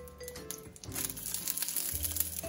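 Garlic frying in olive oil in a pan gives a steady, close crackling sizzle with dense popping throughout, moderately loud and with no voices.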